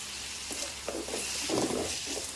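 Ingredients for black urad dal chutney sauté in a pan, a faint, soft sizzle broken by a few light stirring scrapes, close by and quiet, with no talking.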